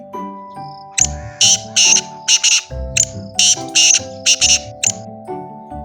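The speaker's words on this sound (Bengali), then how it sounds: "তিতির পাখিকে ইংরেজিতে বলে পার্টিজ" A partridge calls in a run of loud, sharp chirping bursts, about a dozen in quick rhythmic groups, over a sustained musical backing.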